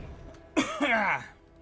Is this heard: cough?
yes